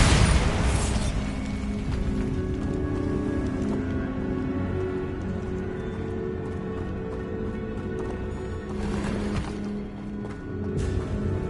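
A Bombarda spell goes off in Hogwarts Legacy, a loud opening blast followed by a long rumbling, debris-filled roar and a second burst near the end, heavy and close throughout with no speech.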